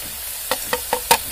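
Chilli, turmeric and cumin masala stirred into frying ginger-garlic paste for a home-style prawn curry, heard as five evenly spaced scraping strokes of the spoon over a low sizzle, close and fairly loud, with no talking.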